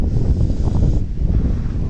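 Strong, cold wind buffets the microphone on the Doddabetta hilltop in Ooty, a loud, steady roar with gusty fluctuations and no other sounds.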